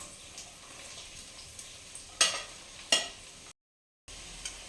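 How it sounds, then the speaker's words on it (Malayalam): Chopped onions and shallots tossed into hot oil with browned ginger and garlic for a chicken curry, a soft sizzle broken by two sharp scraping stirs, then a brief cut to silence. "ഇഞ്ചിയും വെളുത്തുള്ളിയും ഏകദേശം ചുവന്ന് വന്നിട്ടുണ്ട് അതിലേക്ക് സവോളയും ചുവന്നുള്ളിയും അരിഞ്ഞ് വെച്ചത് അതിലേക്ക് ഇട്ട് കൊടുക്കാം"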